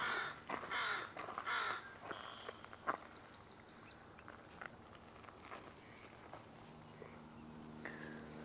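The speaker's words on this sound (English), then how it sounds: "hooded crow. Oh, that's cool." Three loud harsh crow caws in quick succession, followed by quieter bird chirps and faint rustling in the background.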